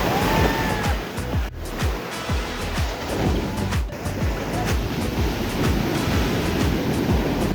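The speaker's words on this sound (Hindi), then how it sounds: "जो वेव्स आप देख रहे हो वो बिगिनर फ्रेंडली तो नहीं है" Ocean surf breaking on the beach at Mulki, India, a continuous loud roar of crashing waves with rolling low rumble and hiss, no voices.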